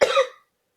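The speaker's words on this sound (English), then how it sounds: "I'm trying to cough around your words" A single short cough, close and fairly loud, ending abruptly into silence.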